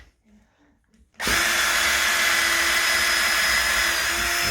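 A 5mm hole drilled through a wardrobe door with a power drill, with timber backing behind it: after about a second of quiet the drill starts, then runs loud and steady, close by, at a constant whine to the end.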